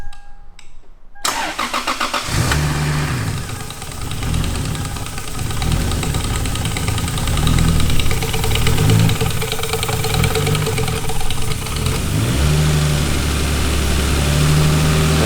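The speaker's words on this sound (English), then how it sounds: "That cold start kicking." A Lexus IS300 cranks and fires on a cold start, then settles into a steady, fairly loud idle with a low rumbling throb and slight revving swells, close by.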